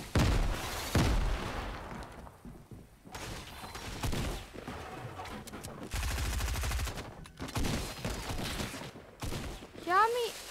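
Gunfire in the video game Fortnite comes in several sharp bursts and rapid volleys, loud and close, separated by short pauses, with some talking alongside.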